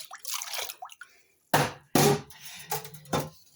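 Water splashing and dripping as freshly dyed wool is rinsed in a pot of warm water, a few distinct wet bursts and trickles, close and fairly loud, with no talking.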